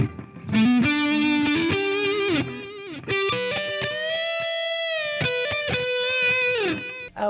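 Distorted electric guitar, an EVH Wolfgang Special, playing a sustained lead melody, notes bending and ringing out with echoing delay repeats trailing behind.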